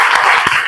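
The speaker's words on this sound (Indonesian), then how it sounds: "applause tepuk tangan untuk kita semua" A classroom of students claps together during a teacher-training lesson, a dense, steady wash of many hands clapping at once, loud and close, filling a brief burst of under a second with no talk over it.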